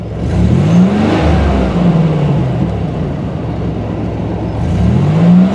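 A 1987 Buick Grand National engine revs on the throttle, rising and falling in loud, close surges at the start and again near the end with a steady idle drone between.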